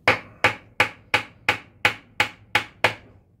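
Nine evenly spaced sharp hammer taps on the reverse arm of a Holden M20/M21 Australian four-speed gearbox during strip-down, each strike ringing bright and metallic with a short decay, close and alone with no talk.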